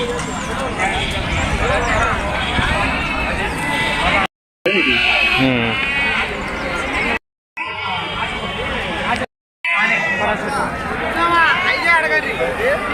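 A crowded outdoor sheep and goat market in Kunta with overlapping chatter and scattered animal bleats, briefly cut by short silent gaps.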